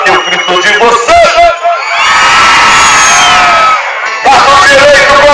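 A rodeo crowd shouting and cheering in a big roar that swells and holds for several seconds, with an amplified voice calling out before and after it.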